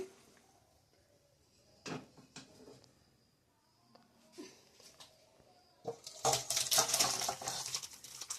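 A cooking pot of curry comes off a stove with clanks and metallic scrapes of utensils and pot against the burner, sparse knocks at first, then a louder burst of clattering near the end, close by and without talk.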